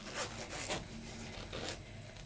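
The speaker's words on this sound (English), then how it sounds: "let me put this zipper back in" A zipper on a golf bag being zipped, giving a few soft, close rasping pulls over about two seconds, fairly quiet with no talk.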